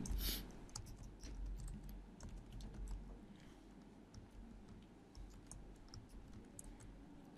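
Typing on a computer keyboard: quick, close keystroke clicks in an irregular stream, with a louder clatter at the start and quieter tapping after that.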